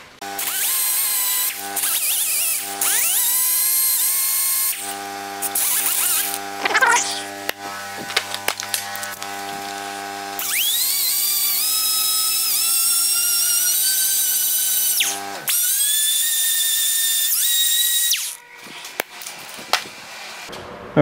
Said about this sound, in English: we're ready to grab the grinder and we're going to start grinding out a little bit of the metal